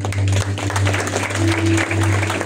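Audience applause for singers at a memorial gathering, dense clapping over a loud steady hum, with a few brief dips in the middle.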